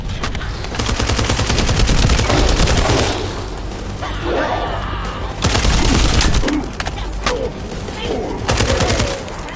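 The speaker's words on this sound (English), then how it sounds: "That stopped the gunfire." Rapid bursts of gunfire in the video game The First Descendant crackle in dense volleys, pausing briefly before more shots ring out, loud and close, with no talking.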